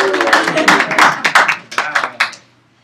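Classroom audience clapping and cheering, a short burst of hand claps and whoops from a group of students that quickly fades to silence.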